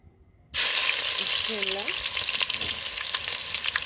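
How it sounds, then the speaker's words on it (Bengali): Onions and garlic dropped into hot oil burst into a loud, steady sizzle that starts abruptly and keeps crackling close by, with a brief voice-like tone in the middle. "তেলগুলো কিন্তু গরম হয়ে আসতেছে তো আমি ততক্ষণে পেঁয়াজগুলো দিয়ে দিব পেঁয়াজ রসুনগুলো দিয়ে দিচ্ছি আগে"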